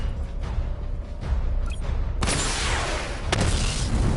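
Missile barrage firing in a video game: two sudden broad blasts with a hissing, rumbling tail, the second hitting about a second after the first, over a steady low game drone.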